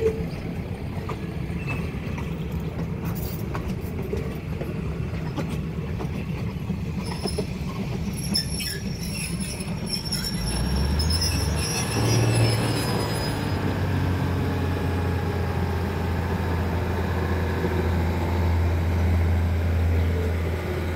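A train pulls into platform 5 of a Thai railway station, its rolling rumble and wheel clatter joined by high squeals and a rising low drone as it draws near.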